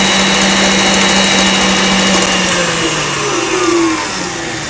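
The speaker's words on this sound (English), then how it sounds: "Now I'm going to beat this with my whisk beater" An electric whisk beater runs steadily at full speed through a sugar mixture for a cake, whipping it until frothy. The whine is loud and continuous, dropping slightly in pitch toward the end.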